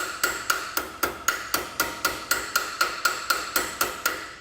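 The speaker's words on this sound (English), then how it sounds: "hammer a lot of those out" Steady metal hammering on a metal fender, working out dents, about four blows per second in an even rhythm, each strike ringing bright and sharp, close up with no talking.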